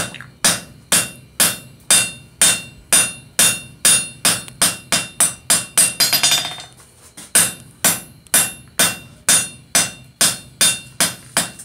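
Rhythmic hammer blows ringing on hot metal on an anvil while forging tongs, a steady series of sharp strikes with a brief pause partway through.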